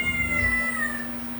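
A small black kitten lets out one loud, drawn-out meow, high and piercing close up, fading in its final moments with a low steady hum underneath.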